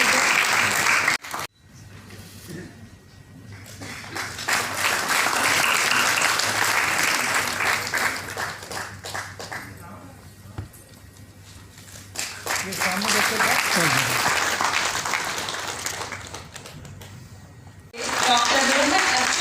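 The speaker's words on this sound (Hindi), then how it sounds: "तालियों के माध्यम से हम आपके योगदान के साथ प्रणाम करते हैं।" An audience at an award ceremony applauds in two long swelling waves, broken by a stretch of announcer speech and a brief lull, with the clapping loud and close throughout.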